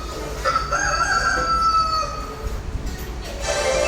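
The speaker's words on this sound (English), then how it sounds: "That's a rooster." A rooster crows loudly and close, one long drawn-out call over a steady background hum.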